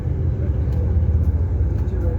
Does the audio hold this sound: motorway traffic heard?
yes